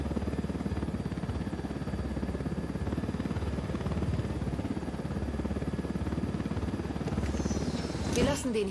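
A steady, rhythmic thudding helicopter rotor drone from the video game Ghost Recon Wildlands fills the scene, loud and constant, with a brief swooshing sweep near the end.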